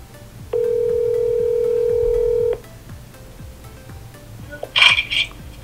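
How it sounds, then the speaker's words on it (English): Steady electronic ringback tone of an outgoing call on a new iPhone 14 Pro, one loud two-second tone, followed by faint rustling and a brief burst of higher handling noise. "I'm going to try to make a quick call to make sure that I am able to use it."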